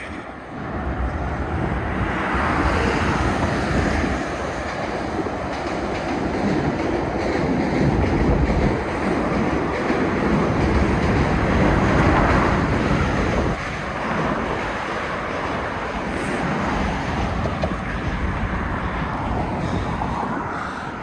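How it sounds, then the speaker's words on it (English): A train rumbles past continuously, a loud, dense roar of rolling wheels and rattling cars that holds steady for the whole stretch. "Another train going by."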